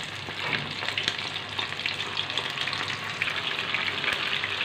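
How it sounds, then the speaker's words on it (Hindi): Chicken pieces frying in hot oil on high heat for fried rice, a steady close dense sizzle and crackle with no talk. "हम 600 के तेल में फ्राई कर रहे हैं।"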